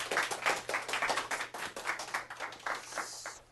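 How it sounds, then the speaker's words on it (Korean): A small audience claps to welcome a speaker onto the stage at a talk event, a short burst of scattered, moderately loud clapping that thins out and fades near the end. "박수 환영해 주세요"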